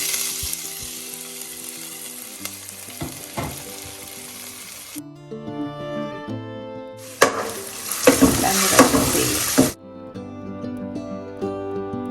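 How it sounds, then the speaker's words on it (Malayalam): Crushed ginger and garlic sizzle in hot oil with popping mustard seeds and fenugreek for a Kerala fish curry, a loud close hiss broken by sharp stirring scrapes and clinks, surging to a burst, then cutting off abruptly. "കടുക് കൂട്ടി ഉലുവ മൂക്കുമ്പോൾ ഇഞ്ചി വെളുത്തുള്ളി ചതച്ച് ചേർക്കാം"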